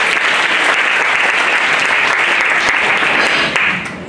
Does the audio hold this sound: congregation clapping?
yes